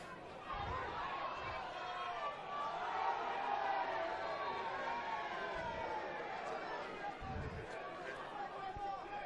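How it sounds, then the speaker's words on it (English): Football crowd at a 2014 FFA Cup Round of 32 match between Hakoah Sydney City East and Palm Beach, a broad roar of spectators rising and swelling over several seconds, with a few dull thuds underneath. "we've got the crowd going wild here"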